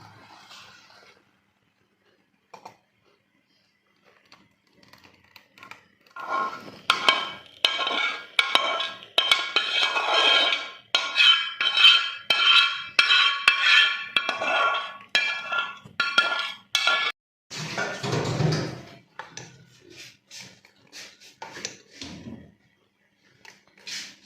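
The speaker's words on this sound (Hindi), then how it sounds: "अब मैं इसे बर्तन में ढेलने लगी।" Sweet chutney made with sugar, freshly cooked, is poured from the pan into a serving vessel in a home kitchen, with a long run of close, dense clinks and scrapes of utensils against metal dishes, ending in a few scattered knocks.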